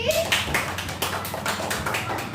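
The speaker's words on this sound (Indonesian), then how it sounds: "tepuk tangannya dulu untuk Yadi." Classroom applause from students: a quick run of rhythmic, fairly close claps mixed with voices talking.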